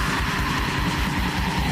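A raw, lo-fi black metal recording plays as a dense, distorted wall of sound with heavy low-end rumble and constant hiss, loud and unbroken throughout with no pauses.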